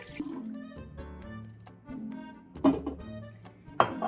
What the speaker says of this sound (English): Pour in your red wine.